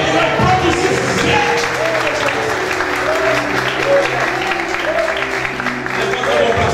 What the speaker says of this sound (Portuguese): Você estava adorando a Deus e já estava aplaudindo o nome dele